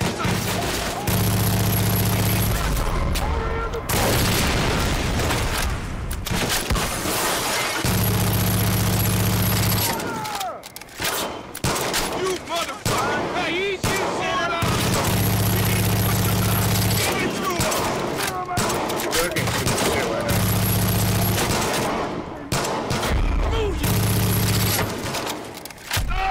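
Loud, sustained gunfire and rapid volleys in the video game Far Cry 5 at a cult compound, with a steady game score or engine drone underneath and a player talking over the shooting.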